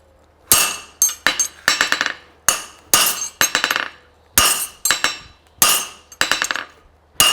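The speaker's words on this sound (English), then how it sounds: "And I use a flat bottom cutter." Sharp metallic strikes ring out at an anvil as a flat bottom cutter works a horseshoe for a French hind shoe. The blows fall close and loud in quick clusters of two to four, each separated by short pauses.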